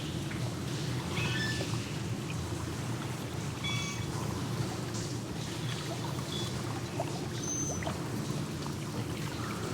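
Running water in the sewers of Sherlock Holmes: The Devil's Daughter, a steady low rushing and trickling flow that fills the whole clip at moderate loudness, with a few faint high chirps and drips on top.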